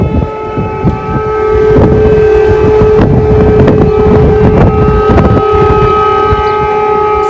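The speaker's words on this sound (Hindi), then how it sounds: "शहर में लोगों को सावधान करने के लिए सायरन बजाए जाते हैं।" An air raid siren wails over Kyiv in a steady, sustained tone, heard from a distance in the open city with wind buffeting the microphone and scattered thumps and clatter around it.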